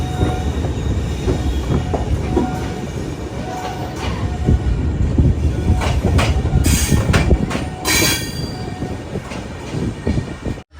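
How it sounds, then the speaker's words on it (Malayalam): Inside a Jan Shatabdi Express departing Dharmanagar, Tripura, on the Agartala to Badarpur route: the train rumbles steadily along the tracks, with rattling carriages, rhythmic wheel clatter and occasional metallic squeals. "ധർമ്മനഗറിൽ നിന്ന് ഇതാ ട്രെയിൻ എടുത്തിരിക്കുകയാണ്"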